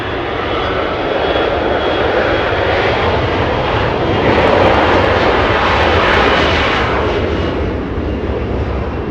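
A Delta Airbus A321 departs Los Angeles International Airport for Atlanta, its loud continuous engine roar swelling slightly and then easing, with no talk.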